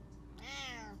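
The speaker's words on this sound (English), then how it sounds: "Wow, that's my cat." A house cat meows close by during a yoga session, one drawn-out, rising-then-falling cry lasting about half a second over a quiet room.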